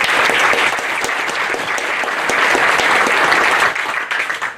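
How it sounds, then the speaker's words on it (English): A loud, steady round of applause from an audience at a Veteran Appreciation Day event, the dense clapping sustained throughout and thinning slightly near the end. "Give yourselves a round of applause,"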